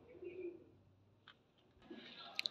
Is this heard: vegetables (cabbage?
no